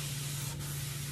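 A stainless steel sink being restored is polished with repeated rubbing passes, a close, continuous abrasive swishing over a steady low hum, with no voices.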